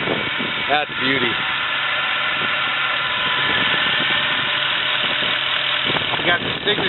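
A 2009 Mercedes-Benz C63 AMG idles with the hood open, a steady low engine hum running throughout beneath someone talking nearby.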